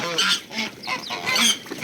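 Geese honk repeatedly in a noisy cluster, close by, with overlapping nasal calls and some background voices.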